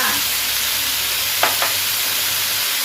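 King oyster mushrooms stir-fry in a hot pan with a steady, close sizzle and a couple of brief scraping stirs partway through.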